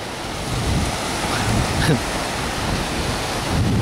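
Sea surf at Ilha dos Carneiros in Pernambuco, Brazil, a steady loud wash of breaking waves with wind rushing across the microphone throughout.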